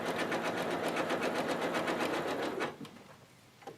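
A sewing machine stitches ruching into a sleeve, a steady, loud rapid needle rattle running close for over two seconds, then stopping and leaving quiet handling noise.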